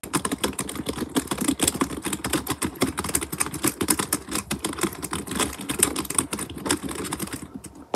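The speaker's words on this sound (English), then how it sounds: "Rate these keyboard ASMR sounds." Rapid, steady computer keyboard typing, close and crisp, keys clacking continuously without pause until a brief quiet at the very end.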